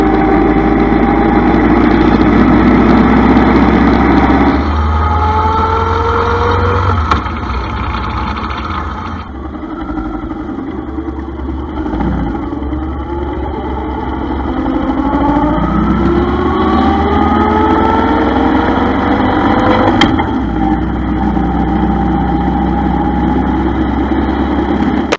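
A motorcycle engine runs steadily throughout a ride toward Niagara Falls on the Parkway from Fort Erie, loud and close with shifting drone and some wind rush, no talking.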